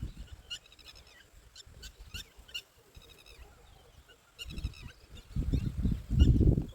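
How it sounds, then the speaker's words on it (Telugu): Birds calling in a farm field where seeds are being planted, repeated chirps and twittering scattered across the clip at moderate distance, with low rumbling handling or wind noise growing louder toward the end. "మీకు పక్షులు అలిగడి వినిపిస్తుంది కదా"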